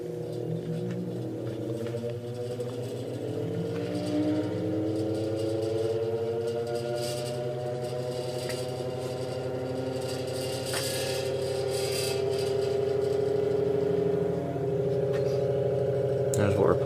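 An antique GE Vortalex electric fan starts up on low speed, a steady close motor hum with strong rising harmonic tones and a faint rattle as it spins up.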